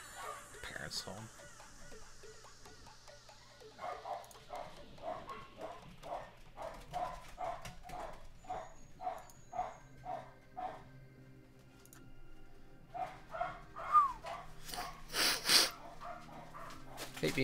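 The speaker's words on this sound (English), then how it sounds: "Sorry about the dogs barking in the background." Dogs barking in the background at home, a run of repeated barks at a fairly steady rhythm that grows denser toward the end, set back from the microphone amid indoor room noise.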